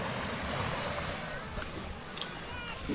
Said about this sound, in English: Some waves crashing in the near distance here